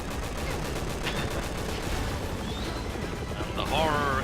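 Gunfire and explosions rattle steadily through a Resident Evil 6 action sequence, with dense rapid bursts and crashes at a constant loud level under game effects and brief tonal sounds near the end.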